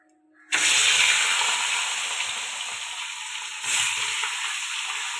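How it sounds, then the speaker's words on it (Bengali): Fish dropped into hot oil, a loud sudden burst of close, hissing sizzle that eases into a steady crackle, with a second swell of sizzling partway through. "তেলটা গরম হয়ে গেছে, মাছটা দিয়ে দেবো।"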